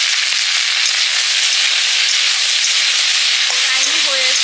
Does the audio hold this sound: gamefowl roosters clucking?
no